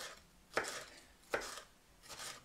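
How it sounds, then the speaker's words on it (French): A knife chops a red pepper into small cubes on a board with three crisp, evenly spaced cuts, quiet and close with no talking. "là je le coupe en petits cubes également"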